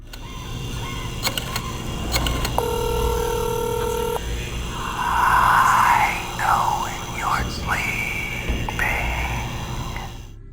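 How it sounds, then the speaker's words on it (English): Telephone ringing as an Easter egg in the Call of Duty Zombies map Shi No Numa, repeated electronic rings over a swampy backdrop of croaking frogs and low ambient drone. "when you activate the Easter egg song, the phone rings"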